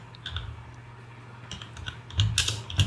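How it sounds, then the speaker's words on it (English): Keys tapped on a computer keyboard in short, uneven bursts of light clicks, close and fairly quiet, with a quicker flurry of keystrokes near the end. "So after typing as a Chrome store"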